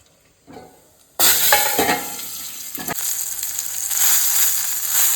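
Two slit green chilies dropped into hot oil with mustard seeds and a pinch of asafoetida: near silence, then a sudden loud sizzle that stays close and steady, with light stirring scrapes.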